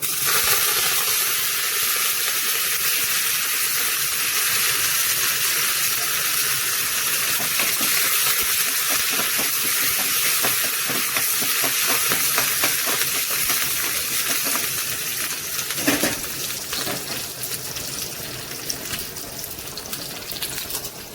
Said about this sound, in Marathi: आता फ्राय करून घेऊया।